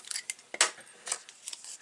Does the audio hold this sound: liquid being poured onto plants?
no